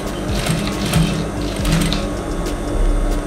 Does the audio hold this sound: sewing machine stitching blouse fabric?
yes